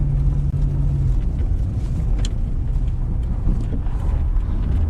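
A car drives along a road toward Sapphire in rural Australia, with steady engine and road rumble from inside the cabin and a short whine early on.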